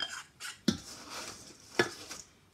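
Thick, gloopy chocolate biscuit cake mixture stirred around a saucepan with a spoon, giving two sharp metallic knocks against the pan between softer scraping strokes, close and fairly quiet.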